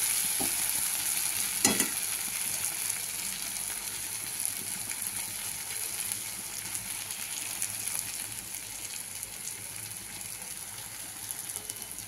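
Ivy gourd (kundri) frying in a pan gives a steady, fairly loud sizzle that runs the whole time, with a few faint scrapes of a utensil and no voices.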